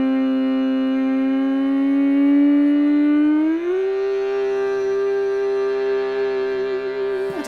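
Sustained shruti box drone with rich stacked harmonics, steady and loud, gliding smoothly up to a higher pitch midway and holding there, with no voice over it.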